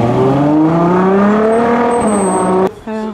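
A Ferrari 812 GTS revs close and loud in a hotel parking lot during the Zoute Grand Prix 2021. The engine pitch climbs steadily and then cuts off abruptly before a brief lower-pitched rev returns.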